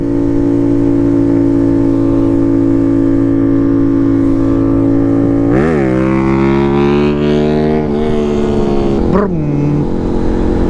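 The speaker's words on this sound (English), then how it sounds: "Think that bike sounds so good, man." A motorcycle engine idles with a steady low drone, then revs up sharply twice, each rise and fall clearly audible and close by, with no talk over it.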